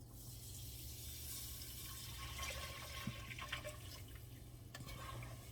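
Juice poured into a pot of caramelized oxtail and pig feet gives a steady, faint liquid pouring and sizzling wash, with a few small clinks over a low hum.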